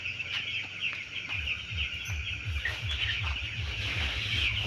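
Broiler chickens in a poultry shed cluck and chatter in a close, continuous flock, with repeated low clucks pulsing under a constant high background of bird calls.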